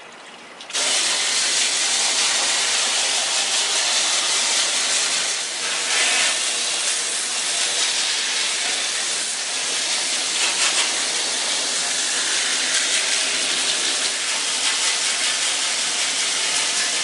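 A garden hose nozzle on its jet setting sprays water to rinse a Marineland aquarium filter, a loud, steady hissing rush that starts abruptly and runs on unbroken with no talk.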